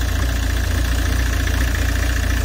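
A car engine idling while warming up, its engine reported to shake on its own; a steady, loud low rumble continues without change, close by and with no voices.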